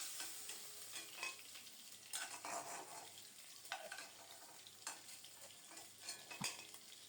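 Pieces of fish and potato frying in hot oil in a pan, a steady close sizzle with intermittent spatula scrapes and metal clinks from stirring, no voices.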